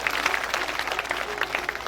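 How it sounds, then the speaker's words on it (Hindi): A packed Ram Katha audience claps loudly and steadily to welcome Swami Vishwanand ji, a dense, even wash of many hands lasting the full two seconds with no talk over it. "एक बार जोरदार तालियां बजा करके स्वामी जी का स्वागत।"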